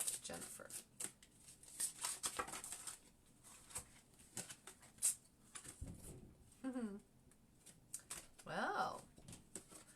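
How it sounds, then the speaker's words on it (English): Quick riffling and flicking of tarot cards in bursts, close up, with a voice speaking over parts of it. "I'm going to shuffle again"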